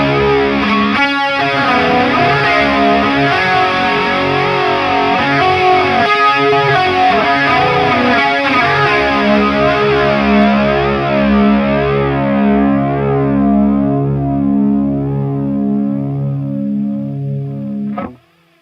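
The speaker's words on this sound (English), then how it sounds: "Let's try the classic channel with a little bit of chorus on it, just so you can hear perhaps how that might sound." An electric guitar played through the classic channel of an AmpOne Mercury Edition amp with chorus rings out in loud sustained chords and arpeggiated notes with a shimmering, wavering tone, then cuts off sharply at the end.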